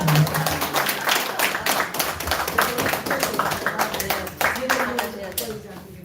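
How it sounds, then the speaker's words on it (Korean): Audience applause after a lecture, dense steady clapping from many hands that stays loud and close for the whole stretch, with voices mixed in. "감사의 박수."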